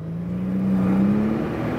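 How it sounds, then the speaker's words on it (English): Mercedes CL65 AMG V12 accelerating at wide open throttle, a loud, smooth engine drone whose pitch climbs steadily through a short pull, heard from inside the car with no talk. "let's do wide open throttle"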